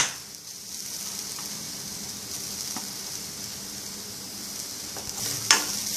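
Steady sizzling from a pan sautéing adamant creeper and grated coconut, with occasional stirring scrapes and clicks, a constant hiss throughout and no talking.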